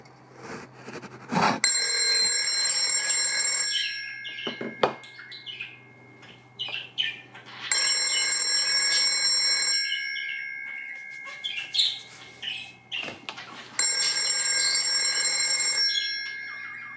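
A Fern Green PMG 802 telephone rings loudly and close in three long bursts of metallic bell ringing separated by quiet gaps, with faint clicks and handling noises between the rings.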